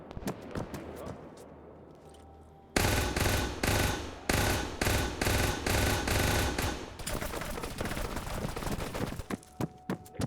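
Heavy sustained gunfire in Arma during a Mass Effect themed op, rapid automatic bursts that start abruptly and continue loudly for several seconds, ending in a few separate shots, with faint talk mixed in.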